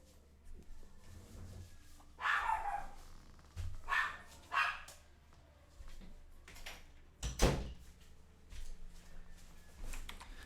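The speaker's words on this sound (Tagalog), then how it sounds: "Medyo maingay yung mga aso ko eh." Several dogs bark indoors at home in bursts of sharp, medium-loud barks spread over several seconds, with a door-like clatter among them and no talk.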